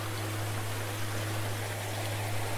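Water flowing high in a forest stream, an even, close rushing wash with a low steady hum underneath and no voices.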